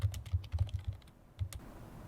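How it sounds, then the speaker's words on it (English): Rapid keyboard and mouse clicks while adding a question in Google Forms, a quick close cluster of taps followed by a pause and one more click. "Click the add question button"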